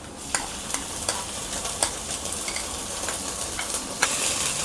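Ground paste is stirred into rice frying in a pot for a chicken pulao: soft continuous sizzle with sharp scraping clicks of the spoon at irregular intervals, fairly quiet and close.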